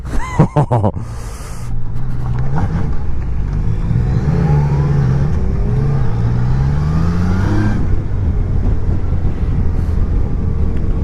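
Engine of a 2019 Yamaha Niken three-wheeled motorcycle pulling hard under acceleration, a steady loud drone with rising pitch sweeps over heavy wind rush, after a few sharp knocks at the start.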